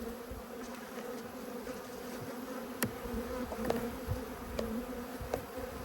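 Honey bees buzzing at an open apiary hive during a frame inspection after smoking, a steady low drone from many bees close by with a few louder fly-pass buzzes and occasional clicks.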